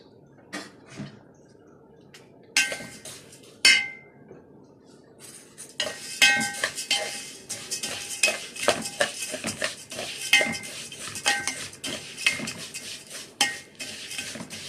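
Vermicelli frying in oil in a pot for Egyptian koshari, stirred with a utensil that scrapes and clinks against the metal in a steady run of sharp strokes, sparse at first and then busy and fairly close, with no talking.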